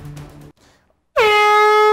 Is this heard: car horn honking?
yes